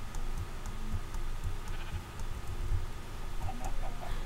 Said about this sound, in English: Okay, it's just a sheep.